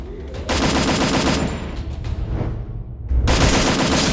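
Sustained automatic gunfire in the mobile battle royale Garena Free Fire, two long loud bursts separated by a short lull of game noise.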